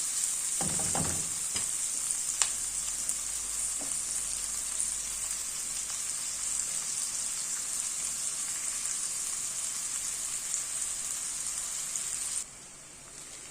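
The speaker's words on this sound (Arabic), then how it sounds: "نقلبها بس ايه تدبل دبلان بسيط كده" Sliced onions sizzling in hot oil in a pan, a loud continuous crackle with a few knocks of stirring near the start, cutting off abruptly near the end.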